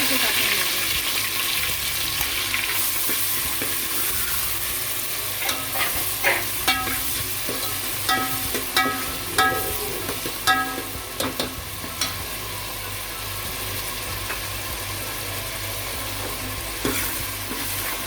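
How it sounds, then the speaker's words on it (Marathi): Onion frying in a pan until browned, a continuous sizzle under repeated scraping stirs of a spoon against the pan, close and fairly loud. "लाल होईपर्यंत भाजायचं आता कांदा चांगला लाल झालाय"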